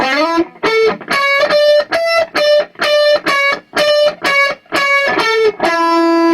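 A distorted electric guitar plays a fast, punchy lead riff of short repeated notes with brief gaps between them, loud and close.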